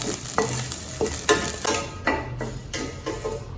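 Curry leaves dry-roasting with horse gram for idli podi in a pan, a dry crackling rustle broken by regular scraping strokes of a ladle, roughly every half second, close and moderately loud.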